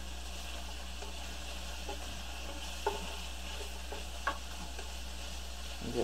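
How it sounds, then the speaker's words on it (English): Bacon frying in a pan gives a faint, steady sizzling hiss, broken by a few sharp clicks and scrapes, with no talking. "Let's fry this bacon."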